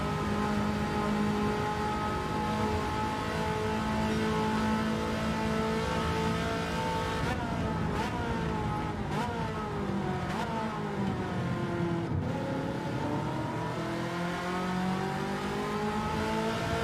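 A race car engine in Gran Turismo 7 revs loudly and continuously, its pitch climbing and dropping sharply through gear changes and braking for corners.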